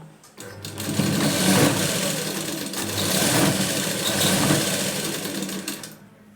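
A sewing machine stitches blouse lining fabric in two sustained runs of rapid, even whirring, each starting and stopping cleanly, loud and close.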